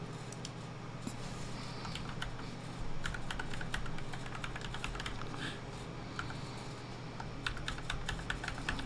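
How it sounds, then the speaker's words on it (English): Rapid, uneven keystrokes on a computer keyboard as a password is entered during server setup, clicking steadily for several seconds over a low constant hum, with no voices. "Probably typed the password wrong."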